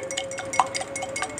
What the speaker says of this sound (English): you use your wrist and you just whisk the eggs